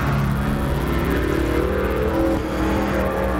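IMCA stock car engine at Arizona Speedway during qualifying, a sustained droning roar with shifting pitch as the car runs laps, fairly close and unbroken for a few seconds.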